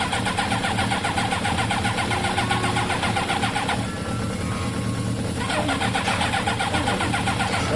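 A Kawasaki ZL600 motorcycle engine cranks and catches, running loud and rough with a steady buzzing, slightly uneven idle throughout, close up with no talking.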